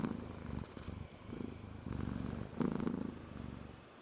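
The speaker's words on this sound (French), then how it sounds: "s'installe, ronronne et se met à patouner" A cat purrs softly and close by, in a steady rumbling rhythm of slow breathing cycles, with no other sounds around it.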